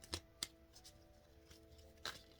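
Tarot cards are shuffled quietly, giving a few brief riffling bursts separated by pauses over a soft background hum.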